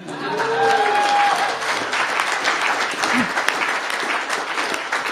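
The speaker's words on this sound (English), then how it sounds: "That should get an applause line." Audience applause at a mayor's bill signing in Washington, DC, a loud, sustained burst of clapping with a few whistles, holding steady for about five seconds.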